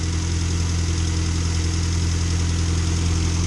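A Morris car engine idles with the choke on, a steady even rumble with a fast, smooth pulse, heard close under the open bonnet on a chilly day, with no talk.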